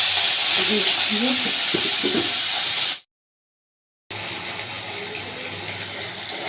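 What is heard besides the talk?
prawns frying in oil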